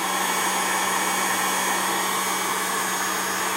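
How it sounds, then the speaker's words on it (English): A heat gun blows steadily over cold process soap to melt the pieces on top, giving a loud, constant whooshing hum with no breaks. "So here's my heat gun turned on,"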